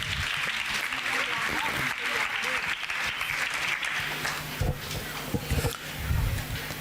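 A church congregation claps for Jesus in an arena, a steady dense wash of applause filling the whole stretch, with a few sharper claps and a voice faintly underneath near the end.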